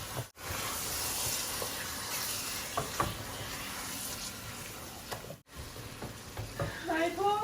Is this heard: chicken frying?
yes